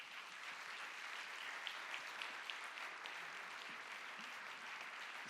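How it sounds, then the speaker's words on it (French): Steady audience applause fills a lecture hall after a talk on social justice by Pierre Rosanvallon, a dense, even patter of many hands held at constant level from start to finish, with no voices on top. "Je crois qu'on peut vous applaudir très fort déjà."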